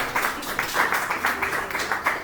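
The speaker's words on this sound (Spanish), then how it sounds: "Un aplauso para el Señor" Church congregation applauding the Lord, a modest group clapping in a loose, uneven rhythm, moderately close and with no talk.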